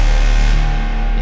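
A cinematic trailer hit used as a signature sound, a dense sustained synthetic impact with a heavy low end that holds loud and steady before its top end drops away, heard alone.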